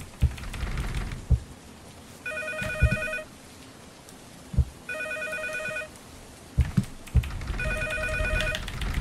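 Telephone in the horror game Cycle 616 rings three times in evenly spaced bursts, a bright electronic trill over low thumping footsteps and background noise.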